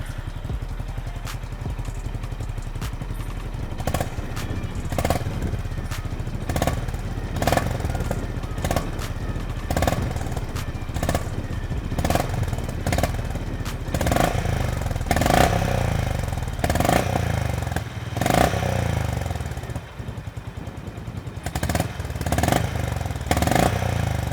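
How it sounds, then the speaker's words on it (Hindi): A Honda H'ness CB350 motorcycle starts and idles close by, its exhaust note a steady, low thumping beat with occasional sharper blips of throttle over about twenty seconds. "अब आपको सुनाते हैं होंडा हाइनेस CB350 का एग्जॉस्ट नोट।"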